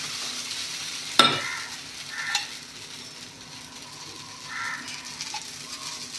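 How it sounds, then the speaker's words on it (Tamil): Horse gram dosa batter cooking on a hot pan, a soft steady sizzle close by with a sharp clack early on and a few faint scrapes. "இன்னொரு தோசை போட்டுக்கலாம்."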